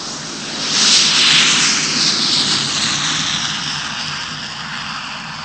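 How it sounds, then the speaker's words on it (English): A loud Boeing 707 jet airliner roars overhead, swelling to a peak early on then slowly fading as it passes, a broad rushing engine noise with no voices. "That monster was the Boeing 707, the largest plane in the world"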